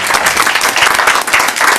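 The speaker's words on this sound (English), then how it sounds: "give her a nice round of applause" Audience applause fills a city council meeting chamber, loud, dense and continuous for a couple of seconds, many hands clapping at once.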